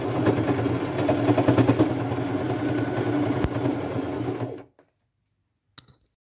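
A sewing machine stitches letters onto a pair of thrifted Levi's jeans with a close, steady mechanical whir for several seconds. It stops abruptly, and a few faint clicks follow in the silence.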